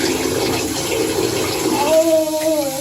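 Tap water runs steadily into a bath being filled for a small child, a continuous splashing rush with a faint squeaky tone toward the end.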